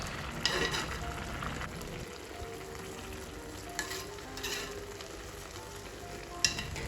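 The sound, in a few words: chicken pilaf cooking on high heat until water evaporates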